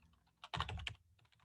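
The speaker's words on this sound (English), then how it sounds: "Just got to get my fingers working on the right keyboards here." Fingers tap out a short burst of typing on a computer keyboard, a quiet cluster of rapid clicks with a few scattered keystrokes before and after, close and otherwise silent.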